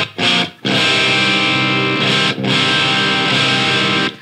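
Electric guitar through an IDEA-MTZ distortion pedal with the gain at zero, near-clean strummed chords ringing loudly in three sustained phrases separated by brief silences.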